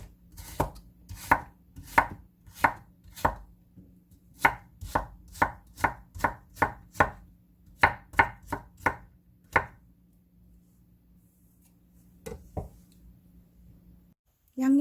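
A kitchen knife julienning onion and carrot on a cutting board for Korean chive kimchi makes a rapid series of crisp, close chopping knocks in quick bursts, followed by quieter pauses with only a couple of soft taps.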